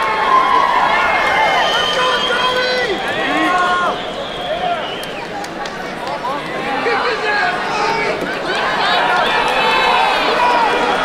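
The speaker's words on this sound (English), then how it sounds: "He's got a large portion of this crowd cheering for him right now." Crowd noise at an amateur middleweight fight night, a steady, loud mass of voices and cheering that swells and dips slightly while whistles and shouts rise out of it throughout.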